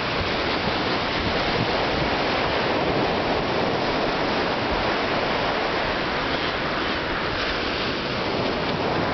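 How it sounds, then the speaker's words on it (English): Ocean surf rolls onto a Florida beach as a constant broadband wash of breaking waves, loud and unbroken, with wind noise and no talk. "Take a look at the ocean."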